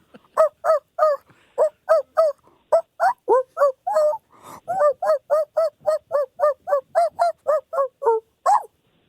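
A person imitates a dog, barking the melody of Jingle Bells in a steady run of about two dozen short, loud, voiced barks with brief gaps between them.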